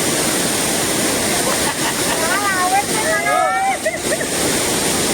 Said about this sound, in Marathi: सारंग खुश आहे, पाण्यात खेळतोय धबधब्यात